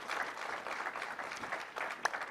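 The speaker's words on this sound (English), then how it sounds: "May we have a round of applause for these esteemed panelists." Audience applauding panelists at a World Health Summit keynote session: a steady, dense wash of many hands clapping, moderately loud and sustained with no talking over it.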